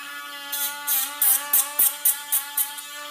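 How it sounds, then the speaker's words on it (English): A small chiropody drill smooths the rough edges of a toenail, its steady whine broken by a rapid series of short, regular bursts as the bit touches the nail, close and alone. "We will then go onto the nail with a small drill to take off all the rough edges"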